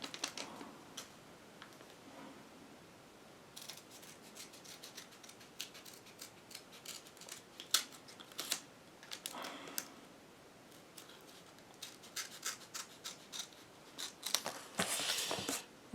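Scissors snip through the paper packaging of a coin collection from the Monnaie de Paris in a series of crisp, close cutting clicks, sparse at first and then in quicker bursts, with no talk.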